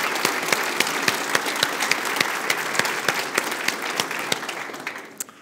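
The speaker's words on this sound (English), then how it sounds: "let's give him a big round of applause" Conference audience at a Liferay Symposium in Brazil gives a big round of applause for Pedro Cabral, dense sustained clapping with crisp individual claps, tapering off and fading out at the end.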